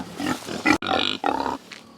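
Feeder pigs raised for food grunt and snort close by in a few short, rough bursts, with a brief pause between them.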